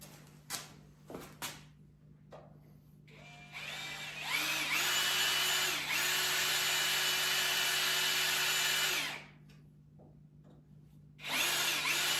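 A power drill drives screws into a wooden gate kit in bursts: a few short clicks, then a long steady whir that shifts pitch midway and stops, followed by another burst starting near the end, close and fairly loud.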